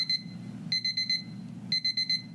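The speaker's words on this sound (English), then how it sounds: "There's an alarm clock stuck inside the wall, and it goes off every night at exactly 7:50 p.m." An alarm clock stuck inside a wall rings in rapid electronic beeping bursts, two clusters a second apart, slightly muffled over a low background hum.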